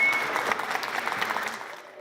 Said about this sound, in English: You can just give a round of applause.